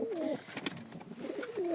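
Pigeons coo in low, throaty rolling calls, close and steady, with soft rustling in the background.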